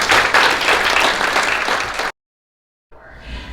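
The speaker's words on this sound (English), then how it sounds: "So let's give them a round of applause." Audience applause at a high desert candidate forum: a dense burst of clapping for about two seconds, then a sudden gap of silence before the clapping resumes more softly.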